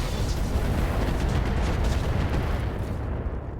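Weapons fire on a target in RogueTech BattleTech as a loud, continuous blasting roar that holds for about three seconds, then fades away.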